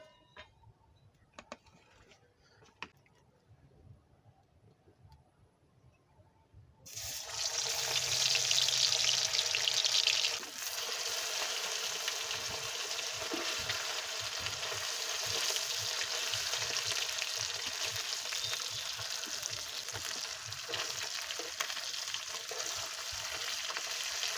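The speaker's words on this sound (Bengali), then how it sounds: "তেল গরম হয়ে গেছে, মাছগুলো হালকা করে ভেজে নেব।" Small topse fish dropped into hot oil, setting off a sudden loud, steady sizzle after a quieter opening of faint clinks, then crackling on continuously up close.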